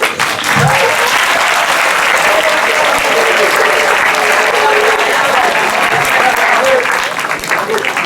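Sustained audience applause at a Model UN closing ceremony, many hands clapping steadily and loudly for several seconds before tapering slightly at the end.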